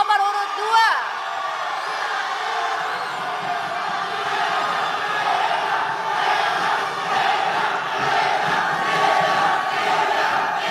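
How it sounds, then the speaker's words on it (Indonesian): Audience at a mayoral candidates' public debate in Kendari breaking into loud applause and cheering, sustained crowd roar with whoops and clapping filling the hall, steady throughout with a voice heard briefly at the start. "berikan aplaus yang meriah paslon nomor urut 5 dan paslon nomor urut"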